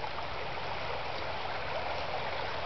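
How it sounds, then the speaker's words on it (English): Creek water runs along a rocky, sandy bank in Georgetown, Ohio, a constant close rushing flow with no breaks. "steeper running water on that side of the bank as well."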